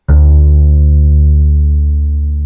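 A single sustained low double bass note, bowed, rings steadily with rich harmonics and slowly fades after release; no voices.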